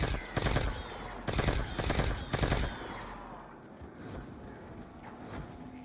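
Gunfire in a video game, three loud bursts of rapid automatic shots in quick succession, then fading into quieter background game noise.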